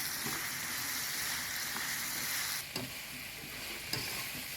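Four medium onions and three large minced garlic cloves frying in a pan make a steady, close sizzle throughout, with a few soft stirring scrapes and no talk.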